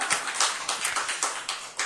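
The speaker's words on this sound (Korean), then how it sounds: "박수" A church congregation claps in unison, a quick, even run of about seven sharp, bright claps from a crowd in a hall.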